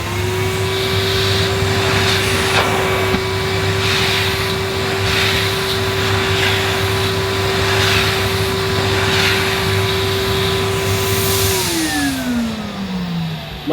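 A Numatic Henry vacuum cleaner runs on high power over a carpet sample, a loud steady motor whine with constant airflow roar, then the pitch winds down near the end as the motor is switched off.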